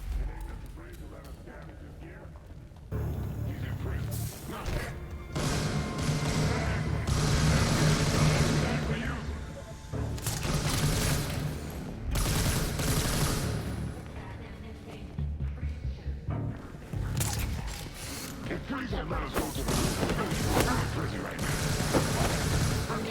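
Video game turret fire in Gotham Knights, sustained loud mechanical bursts and impacts that run through most of the stretch with short breaks, while a voice talks over the action.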